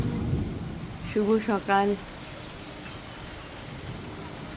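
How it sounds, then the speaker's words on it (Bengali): Steady rain falls with a low rumble of thunder, a broad even hiss throughout. A brief sung voice rises over it midway. "এখন বৃষ্টি শুরু হয়ে গেল"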